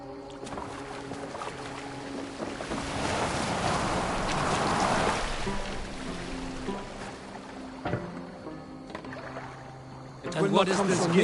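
A boat rowed through water in the video game Assassin's Creed Valhalla, with steady swishing water and oar noise beneath a low musical drone, and characters talking over it.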